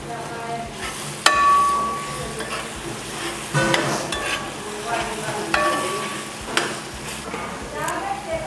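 Crushed ginger and garlic frying in a pan for a crab roast, with a steady sizzle and occasional stirring scrapes, fairly close and continuous without talk.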